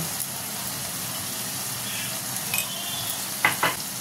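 A ground paste of tomato, ginger and green chili fries in a pan with a steady, even sizzle, broken near the end by a few quick metallic scrapes of a spoon against the pan.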